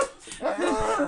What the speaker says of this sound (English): This is my dog, Alex.